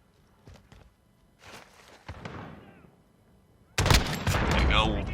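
Gunfire in the Modern Warfare video game: scattered single shots and footsteps at first, then a loud sustained burst of rapid fire with ringing echoes near the end.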